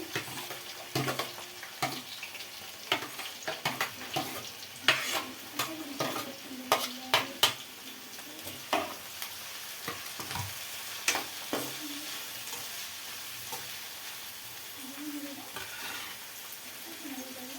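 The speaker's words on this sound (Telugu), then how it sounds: "పచ్చిమిర్చి వేగిన తర్వాత ఉల్లిపాయలు వేసుకోవాలి." Green chillies and onions frying in a pan for boti curry, with a soft continuous sizzle under frequent clattering stirs and scrapes, plus a brief burst of running tap water and faint voices in the background.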